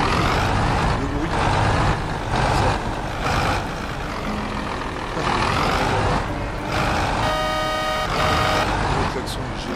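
A heavy truck engine in Farming Simulator 22 revving and roaring in bursts, with a horn-like tone and beeps near the end, while a person talks over it.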